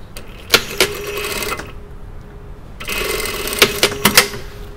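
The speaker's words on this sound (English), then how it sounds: "So I want to sew this so I catch the zip tape underneath" Sewing machine stitching a skirt's waist facing over invisible zip tape, in two short bursts of rapid needle clatter separated by a quiet pause, close and fairly loud with no talking.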